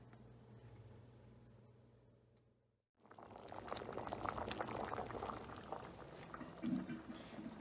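A butternut squash, rice and carrot soup simmers at a low boil, a soft bubbling that swells in after a quiet stretch with a faint hum, then a brief clatter near the end.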